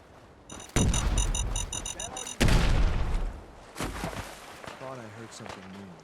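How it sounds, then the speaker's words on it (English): Loud gunfire bursts and booming blasts in Fallout 4, with people talking over the action and a short electronic beeping tone near the start. "In the mood for dodging gunfire?"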